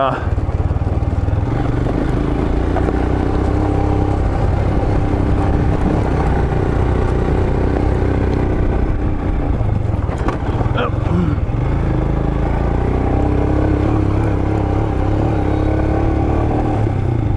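A Royal Enfield Himalayan 411 is ridden on a track, its engine a loud, steady low drone with wind rush and occasional clatter, a rider's voice faintly underneath.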